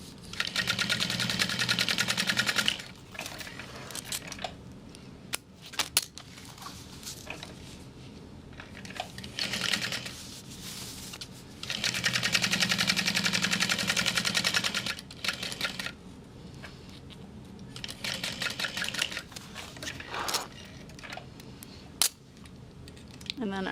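A sewing machine top stitches a sling bag in several bursts of rapid, steady whirring, separated by pauses with small clicks and handling sounds, close and clear.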